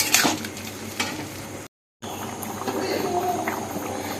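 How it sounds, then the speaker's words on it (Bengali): A spoon stirs chickpea dal sweetened with jaggery in a pan, giving a soft scraping, sizzling swirl that breaks off briefly before it carries on as a steady wet stir with light clinks. "এবার এটা ভালোভাবে এর সাথে মিশিয়ে নিয়ে এতে পরিমাণ মতো জল দিয়ে দেবো"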